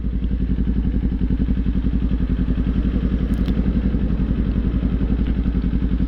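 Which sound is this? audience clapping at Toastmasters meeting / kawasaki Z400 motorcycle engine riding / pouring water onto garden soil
kawasaki Z400 motorcycle engine riding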